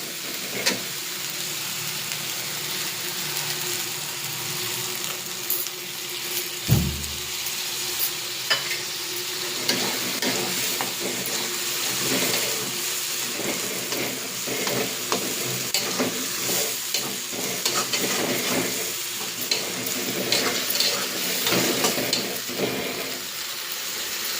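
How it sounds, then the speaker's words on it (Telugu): Tomato puree fries in a pan for crab curry, giving a loud, continuous sizzle with a spoon scraping and stirring at irregular intervals and a dull thump near the start. "బాగా వేగిపోయింది ఇప్పుడు టమాటా ప్యూరీ వేసుకుందాం"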